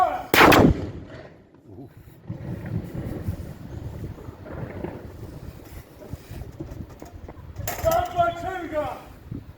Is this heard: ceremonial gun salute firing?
yes